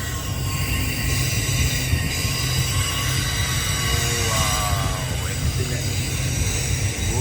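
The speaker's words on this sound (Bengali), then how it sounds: "দেখতেছি ট্রেনটা স্লোভাবে আসতেছে" A long freight train in Australia rolls slowly past a rubbish-strewn spot, its steady low rumble and rolling wheel noise continuing unbroken throughout, with faint metallic squeals rising partway through.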